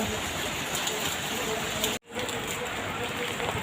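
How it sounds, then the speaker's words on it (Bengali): Heavy rain pours steadily outdoors at an autumn festival ground, a dense continuous hiss that cuts out abruptly for a split second midway, with faint talk underneath. "খুব জোরে বৃষ্টি নেমে গেছে,"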